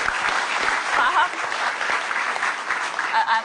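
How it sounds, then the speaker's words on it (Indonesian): Studio audience at an Indonesian television talk show breaks into steady, sustained applause, a dense wash of clapping with scattered cheers that holds at an even, fairly loud level throughout. "Tolong tepuk tangan dong buat Pak Jokowi."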